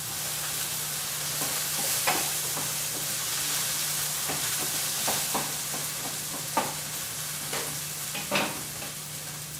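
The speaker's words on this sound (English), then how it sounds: "Quickly, I'm just going to stir the potatoes." Potatoes fry in a pan beside ham for a honey mustard hash, a constant soft sizzle broken by occasional scraping stirs and clacks of the spoon, close by with no voices.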